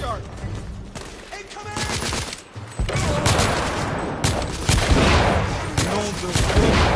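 Grenade blast and sustained gunfire from a Victorian-era shooter game, loud continuous volleys with booming bursts, a brief lull and quieter stretch early before dense firing resumes.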